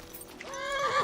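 A horse in the video game Kingdom Come Deliverance II gives a single close neigh, rising into a bright whinny near the end of a brief moment.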